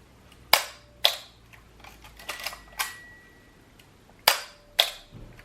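Crisp mechanical clicks of a Zenit 19 film camera shutter firing, heard close up in several open-and-close pairs with short pauses between them, with no talking.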